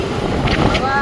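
Wind buffets an outdoor microphone in one loud, steady, low rumbling gust lasting about a second, with no other clear sound.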